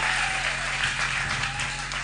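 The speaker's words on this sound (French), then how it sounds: "Applaudissez très fort pour" A congregation at a church service applauds in a dense, steady wash of clapping, held at an even level over a low background hum.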